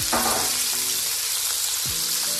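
Pears browning in a hot pan for guinea fowl with pears and vanilla make a dense, loud, continuous sizzle, with a couple of soft scrapes as the fruit is moved.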